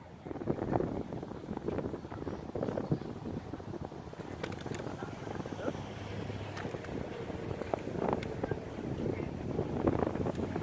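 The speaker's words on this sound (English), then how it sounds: "It is a little windy." Steady wind buffets the microphone with low rumbling gusts, while faint background sounds come and go throughout.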